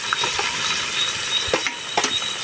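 About 800 grams of local onions dropped into hot oil for a cashew masala curry cooked outdoors at a farm, giving a steady crackling sizzle with scattered sharp pops and stirring clicks, with no voices.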